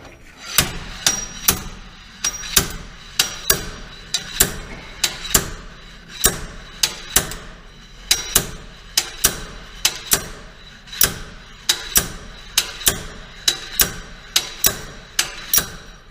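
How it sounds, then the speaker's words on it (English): Sharp metallic impacts repeat at a steady rhythm, a slide hammer pulling a rear axle bearing slamming again and again against its stop, each clang ringing briefly in a quiet space. "you put a little bit of outward pressure on it, you just start sliding that hammer"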